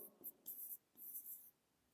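Pen writing on paper during a math lesson, a few quick scratchy strokes in short bursts, close and fairly faint with no talking.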